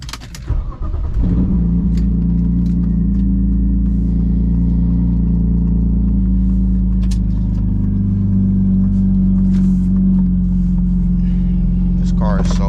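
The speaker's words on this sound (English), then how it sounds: "Let's take the E36 for a cruise. This is gonna be loud." A manual BMW E36 328i with a loud exhaust starts up and settles into a deep, steady, rumbling drone close by, holding a constant roar for several seconds with a brief rise near the end.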